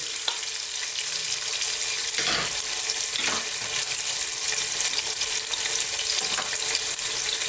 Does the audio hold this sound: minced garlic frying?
yes